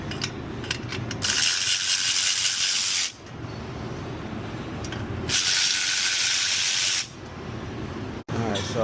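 A ratchet clicks in two long bursts while unbolting exhaust parts, the muffler and downpipes, on a Porsche 996 GT, close and crisp with brief pauses and small metallic taps between.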